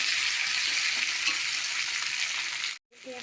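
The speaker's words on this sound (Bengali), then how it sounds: "পেঁয়াজ টমেটো ভাজা করেছিলাম" Onion, tomato and potato pieces fry together in a pan for a Bengali home dish, a dense, even sizzle held close and loud for nearly three seconds before cutting out abruptly and returning softer.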